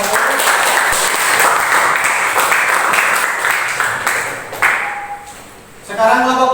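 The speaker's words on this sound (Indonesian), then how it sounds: "tepuk tangan untuk kelompok 1" A class of students applauds for group 1 during a practice teaching session, steady crowd clapping filling most of the stretch, dipping briefly before rising again at the end.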